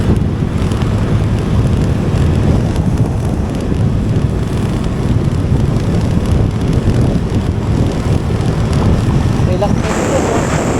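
Strong wind roars steadily over a car on a long road trip from Quezon City toward Nueva Ecija, a dense, loud rush filling the whole stretch with low buffeting and no break.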